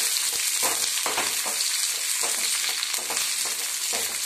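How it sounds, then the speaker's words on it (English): Whole green chilies and spices fry in a hot pan with a loud, dense, continuous sizzle up close, marked by quick rhythmic stirring scrapes and no voices. "Fry it further for 1 minute again."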